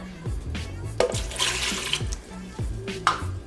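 Water splashes and gurgles in uneven bursts as it is poured into a blender with a hollow, sloshing sound, close and fairly loud.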